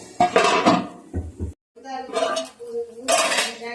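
A metal lid lifts off a pan of three tomatoes sautéed for a fish curry, producing short, close clanks and clatters in separate bursts with brief pauses between them.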